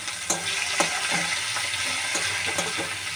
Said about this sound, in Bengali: কিছুটা পেঁয়াজ ভেজে দেবো